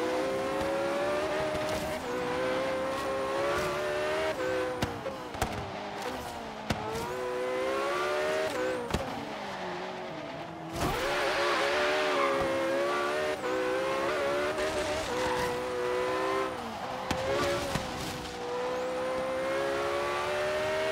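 A Porsche 959 raced in Forza Horizon 3, its engine revving hard and climbing through gears in repeated rising sweeps, with brief tire squeals and shifts breaking the loud, continuous roar.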